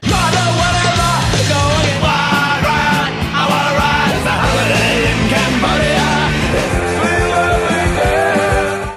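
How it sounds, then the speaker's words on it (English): Loud, dense band music with distorted guitars, driving drums and a shouted vocal, fast and raw throughout. "And that is the sound of punk."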